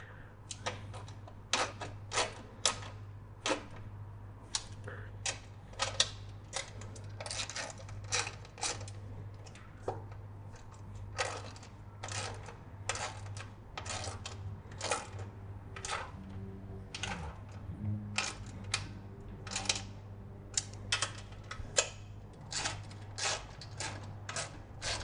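Fast, irregular ratchet clicks from nuts and frame bolts being tightened while fitting an FMF exhaust and Carapaks skid plate on a TE300 dirt bike, heard in close bursts over a low steady hum with no talk.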